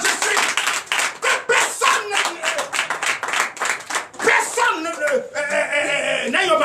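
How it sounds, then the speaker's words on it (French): A congregation claps in acclamation during a Sunday church service in Comè, Benin, dense rhythmic hand claps filling the room with voices and singing mixed in throughout. "Donnez l'acclamation à Jésus."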